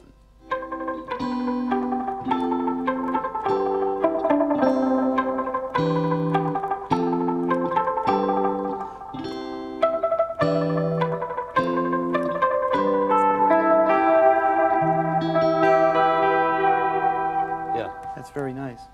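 An electric guitar plays a slow melody, its notes repeated by an echo effect, steady and full throughout with no talking.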